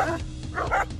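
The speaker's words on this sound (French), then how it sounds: "Ça, c'est des chiens de protection à l'œuvre." Livestock guardian dogs protecting a flock in the Alpes de Haute-Provence, several short, loud barks in quick succession close by with yips mixed in.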